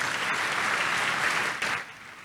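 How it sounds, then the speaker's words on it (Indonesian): A youth church congregation bursts into loud, dense applause that fills the room, holding steady before tapering off at the end. "Tepuk tangan yang paling meriah buat Tuhan."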